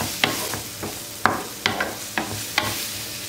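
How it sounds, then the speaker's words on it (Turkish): Sucuk and tomatoes frying in oil in a pan over high heat, with a steady sizzle broken by about six sharp clinks and scrapes of stirring, close and clear, no talk. "İlk önce bunları şöyle bir 2-3 dakika, fazla değil, yağda kavurup alacağım."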